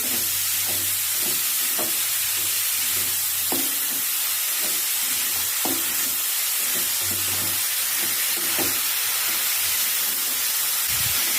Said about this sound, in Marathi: आता आपल्याला ही मच्छी तेलात छान तीन ते चार मिनिटापर्यंत परतून घ्यायची आहे